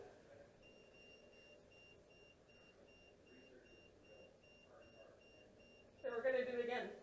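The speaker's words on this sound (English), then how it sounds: "that was like a single beep." A household meter gives off faint, evenly spaced high beeps for several seconds, then a voice speaks up loudly near the end.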